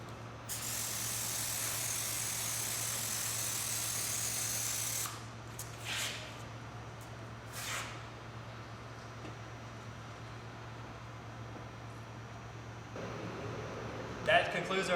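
Sealer hisses steadily from a sprayer onto a landscape curb for several seconds, then stops, leaving a low constant hum with a few short spray bursts afterward.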